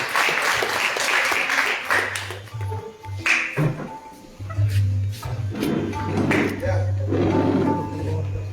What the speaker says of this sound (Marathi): त्या मुलांसाठी जोरदार टाळ्या